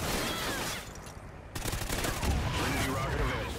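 Bursts of rapid gunfire from Call of Duty multiplayer Domination crackle in a dense, fairly quiet volley with a short lull before firing resumes; no speech over it.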